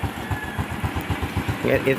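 A Honda Wave 110 motorcycle engine running with a steady, close, throbbing idle pulse, and a person talking over it near the end.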